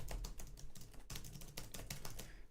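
Rapid keyboard typing with dense, uneven clusters of key clicks, close and fairly steady throughout, with no voices.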